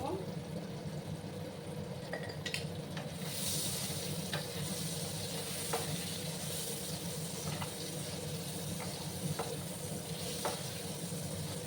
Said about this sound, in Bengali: প্রথমে আমি আলুগুলোকে একটু ভাজা ভাজা করে নেব।